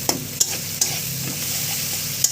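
Turmeric, salt and sugar stir-fried with spices in a pan: a steady close sizzle with a few sharp scraping strokes of the spoon against the pan.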